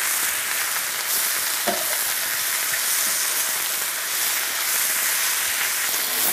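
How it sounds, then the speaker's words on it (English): Fresh spinach sautéing in a hot pan, a steady close sizzle and crackle of frying greens running throughout, with occasional soft stirring scrapes and no talking. "Stir the spinach frequently so that it gets wilted on all sides."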